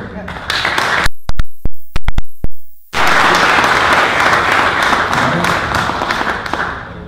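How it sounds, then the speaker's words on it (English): An audience at a county board of supervisors meeting bursts into loud, sustained applause, following a few sharp isolated claps and brief pauses at the start, then a dense, even wash of clapping that continues to the end. "throw them a big round of applause"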